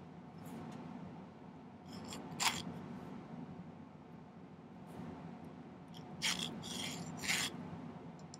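Metal file rasping across silver wire being cut at an angle for earring posts, close and quiet: a low continuous scraping bed with several short, sharper rasping strokes scattered through it.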